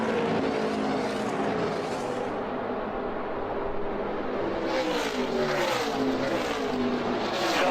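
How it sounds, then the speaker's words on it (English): NASCAR Nationwide race cars racing at Texas near the finish: a continuous loud roar of engines at speed, with rising and falling pitch as the cars pass. "what a bold outside pass on Kevin Harvick to take the lead in this one, and he's driven away with now a half a lap to go"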